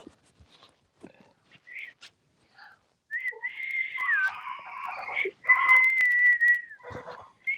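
Rescued bottlenose-type dolphin at an aquarium whistling, a series of high, sliding chirps and a longer rising-and-falling whistle, fairly close and clear, preceded by a few brief clicks and squeaks.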